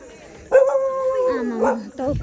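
A dog gives a drawn-out wavering howl that slides into barking yips, loud and close, with a short pause before another bark-like cry.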